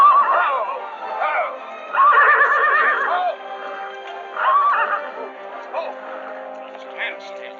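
A horse neighs and whinnies repeatedly in a western film scene, loud and close, with quivering calls coming in several bursts over faint background chatter.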